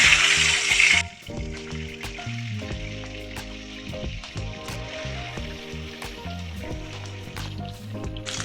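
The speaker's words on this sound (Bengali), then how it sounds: "ওই তেলের মধ্যেই ডিমগুলো দিয়ে দেবো।" Eggs go into hot oil in which cashews and raisins were just fried, bursting into a loud hiss that quickly drops to a steady sizzle with scattered pops and spatula clinks.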